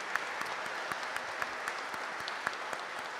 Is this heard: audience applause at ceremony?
yes